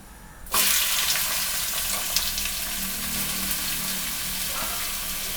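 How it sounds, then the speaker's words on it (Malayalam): Onions drop into hot coconut oil with a sudden loud sizzle that settles into a steady, bright crackling fry, close and continuous with no talk. "എണ്ണ ചൂടാകുമ്പോഴത്തേക്ക് നമുക്ക് ഉള്ളി അതിനകത്തോട്ട് ഇട്ട് കൊടുക്കാം."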